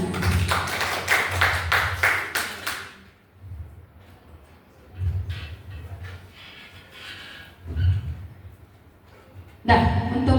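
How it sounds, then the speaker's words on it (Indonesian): A burst of applause from a group of teachers at a training session, a few seconds of dense clapping up close, then scattered taps, low murmurs and brief noises, with more clapping at the very end. "Tepuk tangan buat kita semua."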